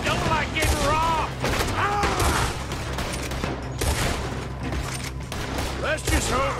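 Rapid, loud gunfire from a shootout during a robbery in the video game Red Dead Redemption 2, with dense overlapping shots and game voices shouting over the continuous barrage.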